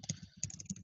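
Quick, uneven clicks of typing on a laptop keyboard, close and fairly quiet, a rapid burst of keystrokes in under a second.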